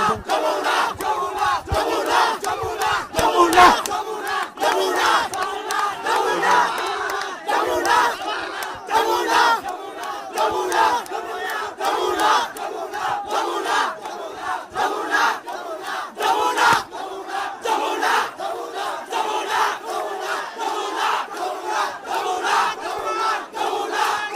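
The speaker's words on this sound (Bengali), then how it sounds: "আমি আসলে এখানে মানুষের এতটাই স্লোগান আমি আপনার কথা পুরোপুরি শুনতে পাচ্ছি না" A huge outdoor crowd of protesters chants slogans and shouts in a loud, continuous, rhythmic roar that never lets up.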